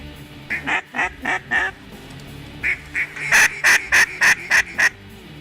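Ducks calling in flooded timber during a waterfowl hunt, with two loud bursts of rapid, evenly spaced honking quacks. Each burst holds about six calls, and they stand out clearly against a steady outdoor background.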